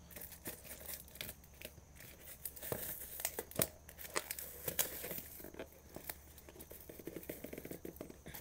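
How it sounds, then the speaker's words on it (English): A cardboard shipping box is torn open by hand, with irregular ripping and crinkling bursts of cardboard and tape, some sharp and loud, scattered over several seconds at close range. "So usually when you got one side, you can just rip everything else off."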